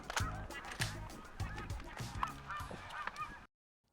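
A large flock of snow geese honks loudly and continuously during a spring hunt, overlapping calls layered over rhythmic thumping, ending abruptly.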